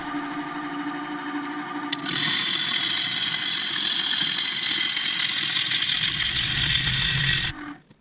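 Wood lathe spinning at 750 RPM while a laburnum bowl is turned to remove a flat spot: a steady motor hum, then a louder dense rasp of the tool cutting the thin wood for about five seconds before stopping.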